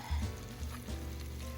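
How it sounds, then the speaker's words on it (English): Oil sizzles steadily in a pan around browned thyme sprigs, a low crackling hiss with a few soft pops, close and continuous. "they're still sizzling in oil"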